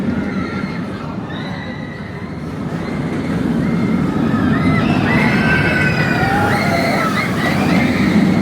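Roller coaster at Six Flags Great Adventure, heard from an end seat over the wheels, rattling hard along its track in a steady, loud rumbling clatter that swells after the first few seconds, with no talking.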